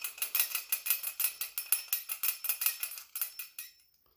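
A small brass bell rattles inside a 3D printed plastic bell, making a rapid, even series of dry clinking taps that fades out near the end.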